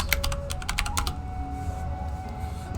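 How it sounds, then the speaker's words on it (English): Rapid keystrokes on a computer keyboard during an online history lesson, a quick burst of clicks that stops after about a second, leaving a low steady room hum. "if you just type in space race"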